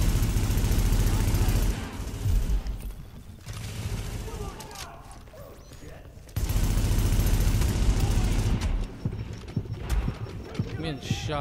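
Rapid gunfire in Tom Clancy's The Division, dense bursts of shots that are loud at the start and again in the second half, with talk mixed in.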